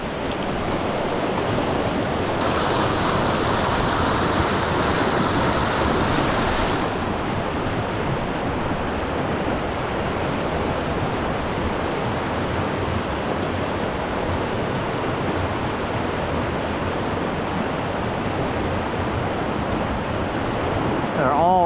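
Rushing white water in a North Carolina trout stream pours as a loud, steady hiss of churning water close by, continuous throughout.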